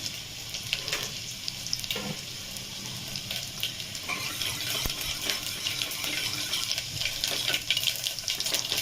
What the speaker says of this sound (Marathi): तेल गरम झाले. आता टाकून घेते लसूण. लसूण परततंय.